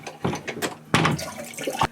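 Water runs from a faucet into a small corner sink aboard a classic wooden sailboat, splashing unevenly and close up.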